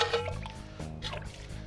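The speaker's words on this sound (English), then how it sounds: "Some more of our warm water. Give it a good rinse." Warm water rinsing out a cast iron Dutch oven, a soft, continuous splashing and dribbling with small drips, quiet and close, with no talking.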